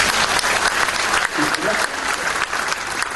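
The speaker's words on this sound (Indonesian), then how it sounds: "Tepuk tangan yang keras." A church congregation at a lively sermon in Jakarta claps loudly and continuously, a dense wash of applause throughout.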